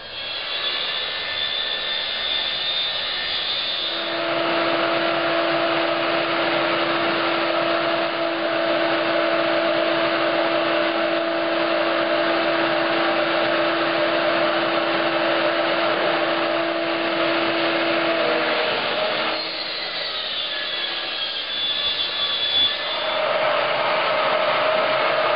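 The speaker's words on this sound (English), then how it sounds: "is going to be ripping 6 pieces of this half-inch sheathing" A power saw rips half-inch sheathing into 4-inch strips, its loud steady whine running for about fifteen seconds after a quieter start, then dropping briefly before spinning up again, with no voices.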